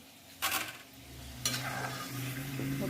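Tapioca chips sizzle steadily in hot oil, with two sharp scraping bursts near the start and middle as a slotted spoon stirs and scoops them from the pan; a low bubbling hiss continues between the strokes, and no one speaks.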